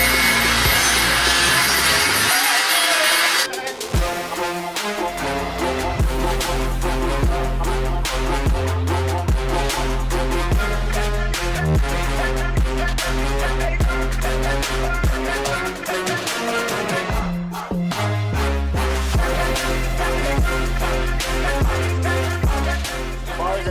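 A flap disc on a grinder bites into a metal mounting tab for a Full Race traction bar on a car, a loud, steady abrasive whine that runs continuously up close with brief dips as the disc shifts against the steel.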